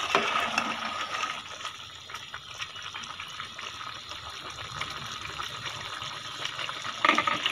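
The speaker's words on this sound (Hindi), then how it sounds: "ये देखिए ये पकना स्टार्ट हो गया।" Cauliflower and peas with masala cooking in a covered pot, a steady soft sizzle and watery bubbling that continues throughout, close and fairly quiet.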